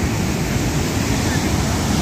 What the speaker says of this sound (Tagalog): At ang alon medyo malalaki pa rin, pero kalmada na